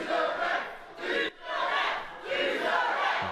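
Crowd at a pro wrestling tag-team elimination match shouting in loud rhythmic bursts, a chant rising and falling with a brief dip between phrases.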